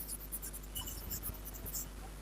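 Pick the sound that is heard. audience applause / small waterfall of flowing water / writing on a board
writing on a board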